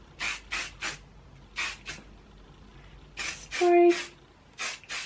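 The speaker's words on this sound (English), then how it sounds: "I'm just going to use this hairspray." Hairspray from an aerosol can misted over curled hair in a series of short, close, hissing bursts with brief pauses between them, plus a low tonal sound partway through.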